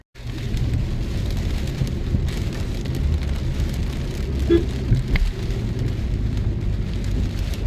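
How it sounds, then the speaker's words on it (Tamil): Steady rain falls throughout, a broad continuous wash drumming on a car during a road trip toward Munnar in Tamil Nadu, loud and even with no talk. "மழை வருது."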